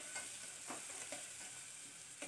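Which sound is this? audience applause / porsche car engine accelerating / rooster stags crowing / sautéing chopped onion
sautéing chopped onion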